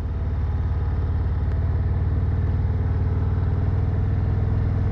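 A Harley-Davidson Road Glide ST with carbon wheels rumbles steadily while being ridden, its engine a loud, continuous low throb close up with no letup.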